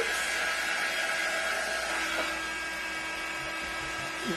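A hair dryer blows steadily at close range to dry the edges of a tulip hoop wreath, giving a continuous high whirring hiss with a slight pitch shift partway through.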